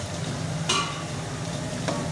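Ginger, garlic and cumin seeds fry in a pan with a steady close sizzle, broken by two brief scraping stirs of a spoon against the metal.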